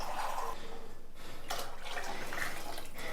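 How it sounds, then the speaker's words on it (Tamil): Water being poured into rice for Tamil nombu kanji, a steady splashing pour close by that briefly eases and then resumes, with no voices. "இப்போ நம்ம எடுத்துக்கிற கப்பால் ரைஸ் எடுத்துக்கிற கப்பில் 5 கப் தண்ணி எடுத்துட்டோம், ஆட் பண்ணியிருக்கோம்."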